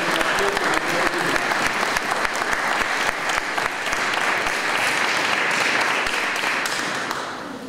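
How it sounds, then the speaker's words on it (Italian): An audience at a concert for peace in Montottone gives a big, sustained round of applause for young performers, many hands clapping steadily and loudly throughout, with a few individual claps standing out. "Un grande applauso facciamolo."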